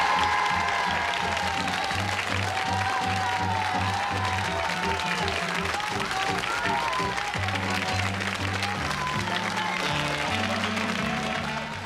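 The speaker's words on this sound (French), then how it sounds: "vous méritez ces applaudissements qu'on ne va pas vous ménager" A studio audience at a French television culture programme gives a long, steady round of applause for the guests, sustained at even volume with faint background tones underneath.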